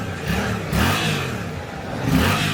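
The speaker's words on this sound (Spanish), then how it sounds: "hicieron el favor de encender la GSX-8R." A Suzuki GSX-8R twin-cylinder motorcycle engine revving close by, with three rising throttle blips over a rough idle, loud and alone.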